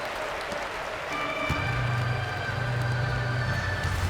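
A virtual arena crowd in an NBA 2K17 basketball game, Rockets versus Hornets, roars with sustained cheering and applause that swells after the first second, a steady wash of noise with no clear speech.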